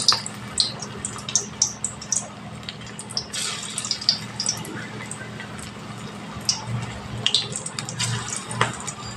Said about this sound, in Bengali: এইভাবে দিয়ে বাঁধাকপিগুলো ভেজে নেব।